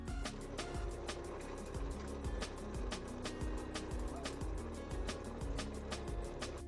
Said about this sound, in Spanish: le haremos un agujero con una broca del 3